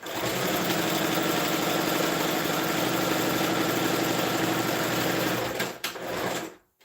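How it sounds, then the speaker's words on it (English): A sewing machine runs steadily, stitching down seams on a boy's native-style shirt, a close, continuous mechanical whir for about five and a half seconds before stopping abruptly. "I will just be sewing this down."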